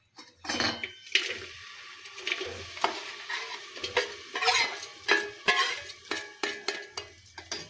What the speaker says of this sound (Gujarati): આપણે એને ગરમ થવા દેવું ઘીને, પછી એમાં નાખીશું ગોળ।